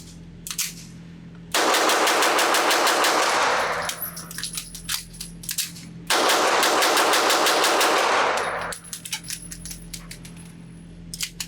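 A Beretta 84BB Cheetah .380 ACP pistol is fired rapidly at a range in two long, loud, continuous strings of shots, with spent casings clinking and ringing on the ground after each string.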